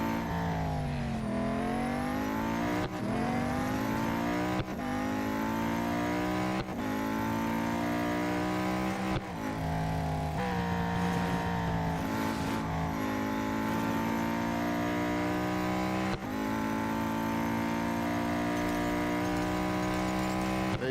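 A race car in the Real Racing 3 mobile game is accelerating hard at around 251 mph. Its engine climbs in pitch through repeated gear shifts, rising then dropping back about every two seconds, loud and continuous with no talk.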